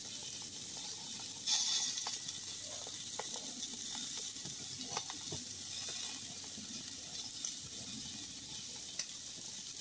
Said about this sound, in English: We're running the gas grill tonight, and we got some steaks on there.